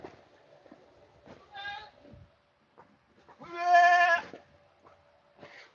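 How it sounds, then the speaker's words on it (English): Goats bleat nearby, a short call followed by a longer, louder wavering bleat, with quieter sounds in between and another brief call at the end. "Goats are hungry and thirsty."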